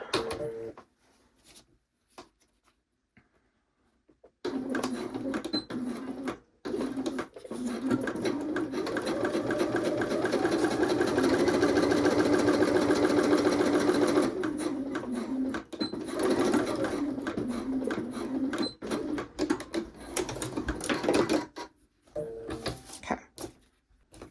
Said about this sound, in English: And now I'm going to top stitch across the top.